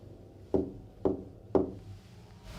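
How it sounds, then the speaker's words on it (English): Three evenly spaced knocks on wood, close and distinct with short pauses between them, and no talking. "Again, can you try to knock like this?"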